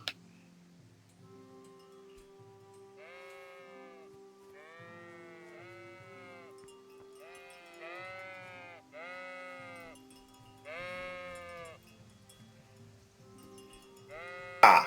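Sheep in the video game Kingdom Come: Deliverance bleat in a string of wavering, tuneful calls over a quiet ticking background, clear and fairly close, with no talk.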